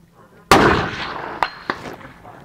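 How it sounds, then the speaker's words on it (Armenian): ISSC SPA .22 LR pistol fired at targets in tactical sequence: one loud sharp shot with a trailing echo, then two quicker, crisper shots a fraction of a second apart, no talk. "Կրակելու եմ տակտիկական ցանցով, առանց ապրանքին ձեռ տալու։"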